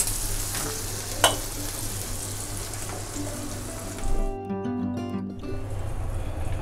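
Stuffed green chillies sizzle as they roast in a pan, close and steady, with a brief clatter and a short burst of running water near the end.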